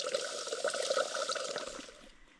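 Water is poured into a container to mix with electrolyte powder, a short, close, bubbling trickle that fades out after about two seconds.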